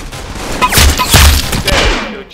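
Burst of gunfire from a shooting video game, several sharp loud shots in quick succession with booming low-end impacts, no talking.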